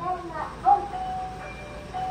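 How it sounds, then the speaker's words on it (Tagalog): Warning tone from the Transtron voice alert system on a bus, triggered by the hazard lights, sounding as a few short melodic chime notes mixed in with voices speaking nearby. "Yung tone nung Transtron voice warning sa hazard"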